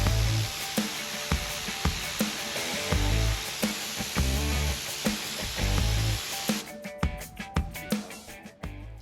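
A Nilfisk P200 pressure washer sprays at full power with a loud, continuous rushing hiss, pulsing slightly as the jet strikes a surface, then breaks into choppier bursts near the end.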